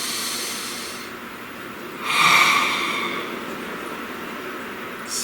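A single deep breath, one slow audible inhale swelling for about a second over a steady background hiss, with no talking.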